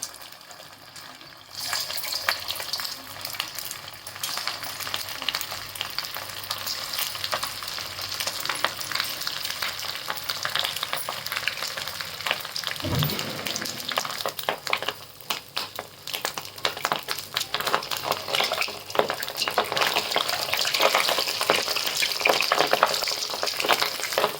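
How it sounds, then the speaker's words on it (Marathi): Fasting bhaji fritters deep-fry in hot oil on a gas stove turned to simmer, a broad continuous sizzle that swells after the batter goes in, with a soft thump partway through and no talking. "आता दोन चार दोन चार असे भजे टाकून तळून घ्यायचे"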